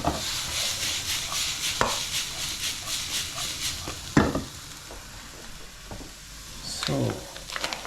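Onions frying in a pan for a Hungarian potato bake give a steady sizzle with stirring, broken by a few sharp clatters of utensils on the pan, and a loud clank around the middle.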